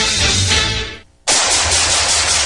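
Gunfire in a radio advertisement, loud close automatic fire rattling continuously, breaking off for a short gap, then resuming as another dense burst that runs to the end, with no voices over it.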